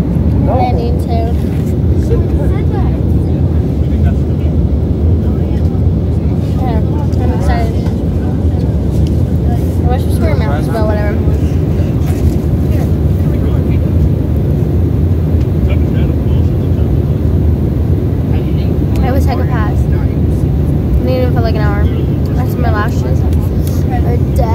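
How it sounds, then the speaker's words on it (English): Airliner cabin descending toward Los Angeles for landing, with a steady, loud broadband engine and air roar filling the whole span while voices murmur and talk over it. "we're going to be landing in Los Angeles shortly"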